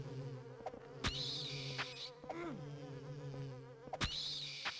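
Buzzing, bee-like drone of a humdinger monster in Silent Hill 4: The Room, a steady insect hum running throughout with brief rising whines and sharp clicks, close and fairly loud, no talk.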